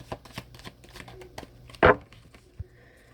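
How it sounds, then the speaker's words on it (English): Tarot cards are shuffled by hand close up, giving a run of soft riffling clicks and one sharp slapping flutter near the middle, with quiet room tone around them. "I love that I shuffle right on camera"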